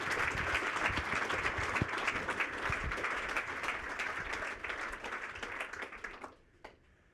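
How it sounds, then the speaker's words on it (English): Sustained audience applause welcomes a speaker at an evening research talk on artificial intelligence, dense and steady for about six seconds before thinning out to a few scattered claps near the end. "let's give Alex a big round of applause."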